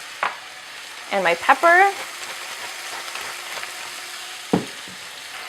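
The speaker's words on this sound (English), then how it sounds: "So I'm just going to let these vegetables saute for a little bit, 3 to 5 minutes." Cabbage and vegetables sauté in a pan, a steady, close sizzle running throughout while someone speaks briefly over it, with a couple of light clinks.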